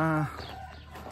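A bird, likely a rooster or similar fowl, gives one short harmonic call at the start near a house in the Philippines with a full roof of birds, then the sound drops to quiet background.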